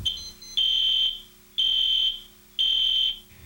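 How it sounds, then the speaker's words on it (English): A loud, high electronic police alarm tone from a Rollins System VI home alarm, sounding in three long on-off bursts, each about half a second long with short gaps between. "The police alarm is a loud, intermittent tone."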